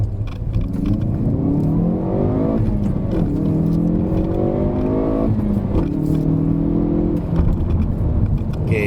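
A Hyundai i30N climbs the Genting hillclimb road, its engine droning steadily with rising and falling pitch as it accelerates through the bends, loud and close with no talk over it.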